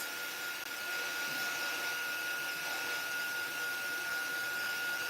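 A heat tool blows steadily while drying paint on a mixed media craft, a continuous broadband whoosh with a faint whine, holding level and close throughout.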